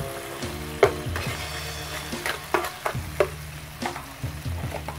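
Water lily being stir-fried with fish sauce and oyster sauce, a loud sizzle with repeated spatula clanks and scrapes on the pan at an uneven rhythm.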